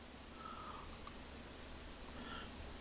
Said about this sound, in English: then click OK